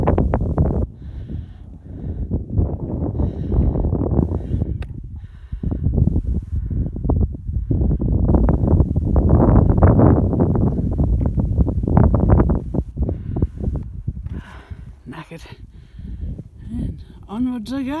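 Strong, steady wind buffets the microphone on Herne Top, an exposed hilltop of about 497 metres, roaring loudly and continuously with gusting swells throughout.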